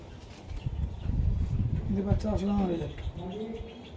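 Low, rolling coos come from pigeons of Madras, desi Giribaz and racer breeds, rising to a clear burst midway through. A voice talks over the birds close by.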